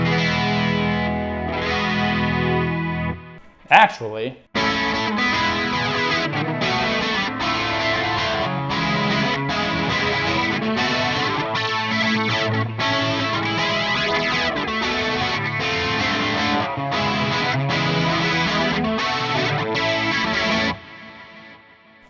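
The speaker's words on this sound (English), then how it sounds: "Let's turn on those choruses on. Let's hear what all the effects sound like." An electric guitar played through a Kemper amp with chorus effects, a lush, wavering chordal passage with distortion that rings steadily for about twenty seconds after a brief pause and a squeal, with a single spoken word.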